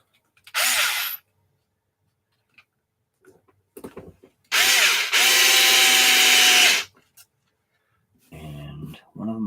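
A power driver whirs in short bursts while screws go into an Arrma Kraton EXB RC car: a brief spin, then a longer steady run, with quiet handling noises and someone talking in between.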